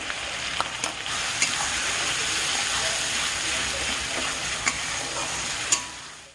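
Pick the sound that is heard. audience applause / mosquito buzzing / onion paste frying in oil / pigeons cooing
onion paste frying in oil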